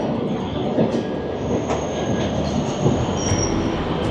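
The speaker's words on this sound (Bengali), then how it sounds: "ভোরবেলার লোকাল ট্রেন।" An early-morning Krishnanagar City local train rolls past at Dum Dum Junction, a continuous close rumble of wheels and carriages with thin squealing tones riding on top.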